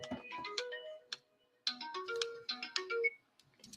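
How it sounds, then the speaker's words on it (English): A mobile phone rings for an incoming call with a bright melodic ringtone, two rising phrases of tonal notes separated by a short pause, clear and close with no talking. "Whoa, I got a phone call."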